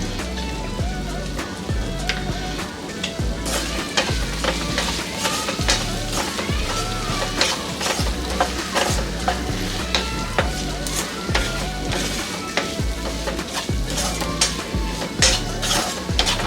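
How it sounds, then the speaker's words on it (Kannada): Okra with masala frying in oil, stirred in a pan: a continuous dense sizzle with steady scraping and light metallic clinks of a spatula throughout, moderately loud and close. "ಈ ರೀತಿ ಮಿಕ್ಸ್ ಮಾಡ್ಕೊಂಡಿದ್ದಾದಮೇಲೆ ಒಂದು 2 ನಿಮಿಷ ಇದನ್ನು ಇದೇ ರೀತಿ ಎಣ್ಣೆನಲ್ಲೇ ಫ್ರೈ ಆಗೋದಕ್ಕೆ ಬಿಟ್ಬಿಡೋಣ."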